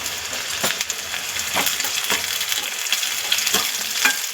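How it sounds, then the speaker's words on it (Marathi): Onion and tomato frying in hot oil for a village-style spicy vajdi fry, a steady close sizzle broken by repeated scraping stirs of a spoon against the pan. "आता तेल व्यवस्थित गरम झालेलं आहे तर आपण ह्यामध्ये कांदा टाकू"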